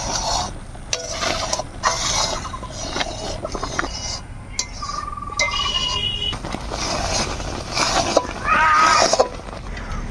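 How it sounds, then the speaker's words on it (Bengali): Jackfruit jaggery stirred in a pan over a stove, a continuous scraping and rasping of a spoon against the pan with occasional clinks, close and steady, with faint background noise. "যতক্ষণ না আসল গুড় তৈরি হয় ততক্ষণ ধরে আমরা কিন্তু এই উনুনে বসায় নাড়তে থাকবো।"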